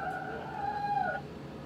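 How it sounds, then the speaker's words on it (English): A raccoon gives a single drawn-out, cat-like cry, a wavering whine of moderate loudness over a low background hum. "Is that a raccoon? That's a raccoon. I thought it was a cat."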